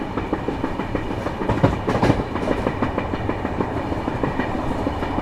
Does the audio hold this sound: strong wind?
no